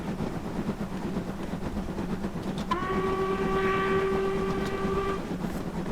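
A train on the Stainmore line in Train Simulator 2020 sounds a sustained whistle for a few seconds over a steady rumble of running on the rails, loud and close.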